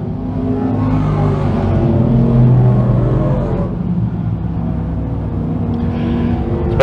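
Dirt modified race cars on the Can-Am Speedway backstretch make a loud, continuous engine roar that swells and then eases slightly as the pack passes, with no voices.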